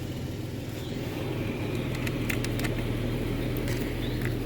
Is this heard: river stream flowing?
no